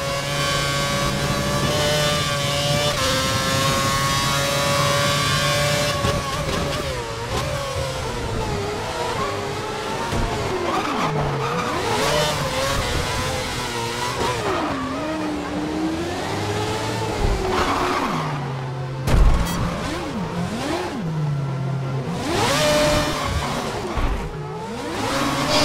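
High-pitched F1 race car engines from a racing video game rev and rise and fall in pitch through gear changes, loud and continuous, with tyre squeal mixed in and no talk.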